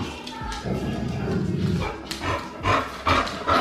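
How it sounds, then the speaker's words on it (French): A dog barks and yips several times in short bursts, close by, with some whimpering sounds between the barks. "il s'est réveillé en sursaut en aboyant à la voix."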